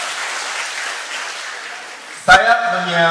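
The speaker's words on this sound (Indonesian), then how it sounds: "Tepuk tangan buat kita semua." Audience applause breaks out abruptly at a teacher training seminar on blogging and social media, a loud burst of clapping following steady talk, with voices continuing over it.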